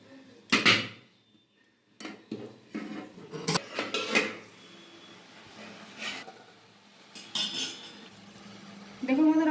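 A metal lid is lifted off a pan in which milk sandesh has steamed for twenty minutes, giving a few close, sharp clanks and scrapes of metal on metal with quieter handling between.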